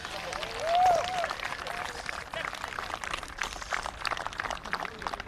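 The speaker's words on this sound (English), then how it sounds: "Let's give them a round of applause." Applause for junior American football teams after a grand final match, scattered outdoor clapping and crowd noise of moderate level with a brief whistle-like tone early on, blended with background voices.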